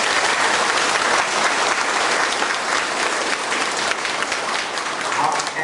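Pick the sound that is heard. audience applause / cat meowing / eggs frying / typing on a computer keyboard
audience applause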